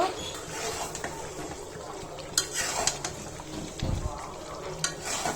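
Chicken pieces being stirred and fried in thick gravy for chicken kosha, a steady close sizzle with repeated spoon scrapes and clinks against the pot.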